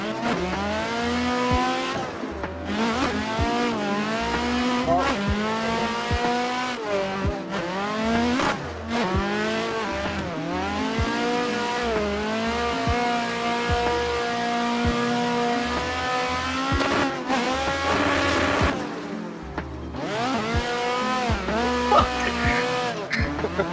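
Racing-game car drifting and spinning out, played on a MOZA R5 wheel: a continuous loud engine whine with sweeping revs and harmonics, rising and falling through the slide, with brief dips where the car loses grip, lasting the whole stretch.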